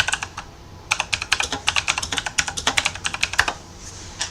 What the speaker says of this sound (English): I went to type Kevin